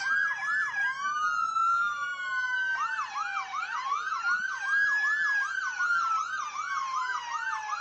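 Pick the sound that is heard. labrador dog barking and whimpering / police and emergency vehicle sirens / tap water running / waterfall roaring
police and emergency vehicle sirens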